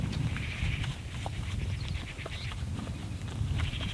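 Several horses walking with hooves clip-clopping on a farm, a steady mix of soft thuds and occasional sharper knocks at moderate distance, with a low background rumble throughout.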